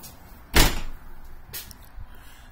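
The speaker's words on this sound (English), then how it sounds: "This is the door." A teardrop camping trailer door opening or closing, one loud close thump and rattle, followed by a fainter second knock a second later in a quiet outdoor setting.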